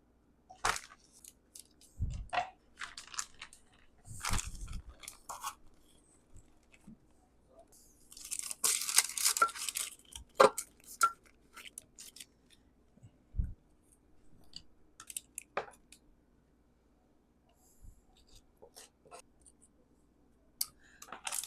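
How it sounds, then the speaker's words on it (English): Graham crackers being cut into squares for tea squares, giving a series of short crisp snaps and crunches spaced irregularly, with a longer scraping burst midway; close and fairly quiet, with no talking. "These graham crackers cut pretty easy, guys."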